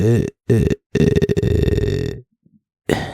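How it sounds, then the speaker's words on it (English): A man lets out a few loud, throaty burps in quick succession, close to the microphone, followed by a brief quiet pause. "I just had to burp real quick"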